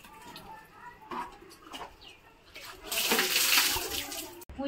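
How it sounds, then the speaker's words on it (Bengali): Malabar spinach stalks are washed under running water: a soft, quiet splashing that swells into a steady rush near the end, with faint background sounds around it. "ঘরে এসে কলপাটটাকে ভালো করে আমি ধুয়ে নিচ্ছি"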